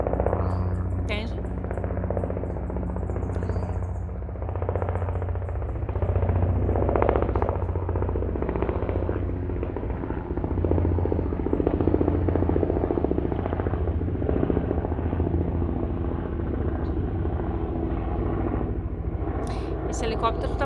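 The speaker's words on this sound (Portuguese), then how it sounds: "Esse helicóptero está passando aqui" A helicopter passes overhead, its low rotor drone rumbling steadily and loudly throughout under someone talking continuously.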